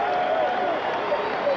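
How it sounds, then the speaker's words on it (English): Crowd applauding in a standing ovation after a light heavyweight boxing fight, a steady, dense wash of clapping and cheering sustained throughout, with a commentator's voice running over it. "They're getting a standing ovation from the crowd here."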